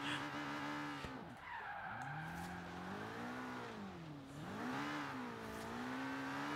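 Car in Forza Horizon 3 skidding through a handbrake 180 spin, engine whining and bending up and down in pitch as the tires scrub, close and fairly quiet, with no speech over it.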